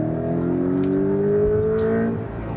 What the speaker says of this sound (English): Now some acceleration, 60 to 100.